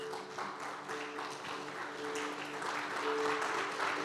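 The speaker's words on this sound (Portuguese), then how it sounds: "aplaudindo a Jesus" Church congregation standing and applauding during worship, a moderate, continuous clatter of many hands mixed with a sustained musical tone and a faint voice underneath.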